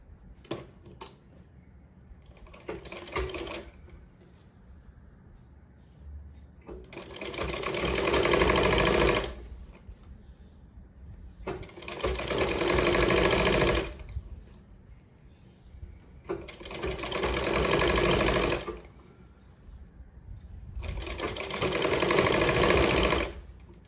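A domestic sewing machine stitches piping onto a jacket in five steady bursts, each run a few seconds long and separated by quiet pauses, loud and close with no talking.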